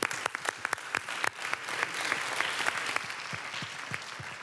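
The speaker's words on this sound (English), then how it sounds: "So a round of applause for the panelists and for yourself." Audience clapping for panelists at the end of a conference session, a brisk patter of many hands that starts with sharp individual claps and thickens into steady applause, fairly close.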